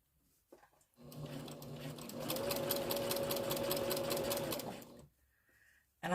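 Sewing machine stitching a seam forward and backward at a little above medium speed, a rapid rhythmic clatter lasting about four seconds between quiet pauses.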